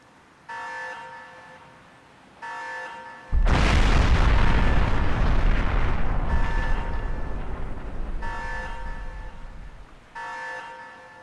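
Aircraft crashing and exploding in the Crysis video game: repeated engine-like tonal bursts, then a sudden loud, sustained explosion roar that slowly decays before the tonal bursts return.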